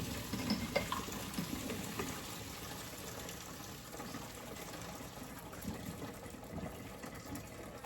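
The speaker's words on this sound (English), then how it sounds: "So I got my noodles all strained. Use my handy dandy strainer." Cooked noodles drained through a kitchen strainer, a continuous close rush of pouring water that spatters and gurgles with no talking.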